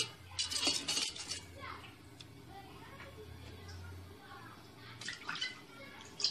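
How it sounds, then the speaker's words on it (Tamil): A spoon scrapes and stirs thick millet porridge in a pot in short bursts, with a faint voice and kitchen murmur underneath. "அடி பிடிக்காமல் கிளறிட்டே இருக்கணுங்க"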